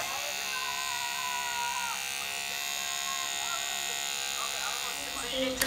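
Electric hair clippers buzz steadily and up close while cutting a taper haircut on a boy's head, a continuous drone with slight pitch wavering. People talk over the buzzing throughout.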